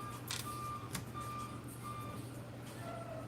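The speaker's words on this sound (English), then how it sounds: "you hear the garbage truck out there backing up?" Garbage truck backing up outdoors, its reversing alarm sounding steady high beeps at a distance over a constant low engine hum, with no talking.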